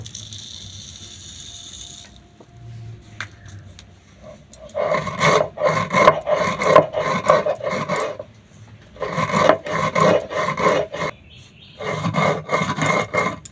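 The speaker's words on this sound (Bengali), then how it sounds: "চিনি গুঁড়ো করে নেব" Sugar is ground to powder in a kitchen grinder for a semolina biscuit recipe, with loud, close bursts of rattling, whirring grinding broken by short pauses.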